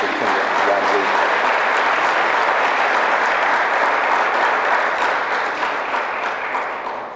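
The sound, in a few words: audience applause for the superintendent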